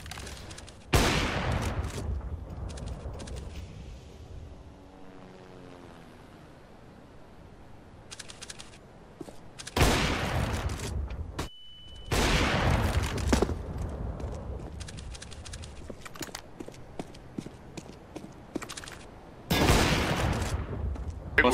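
Gunfire rings out in a competitive Counter-Strike: Global Offensive match on the Cache map: several loud, sharp bursts of shots separated by quieter stretches of in-game ambience, with a brief electronic tone midway.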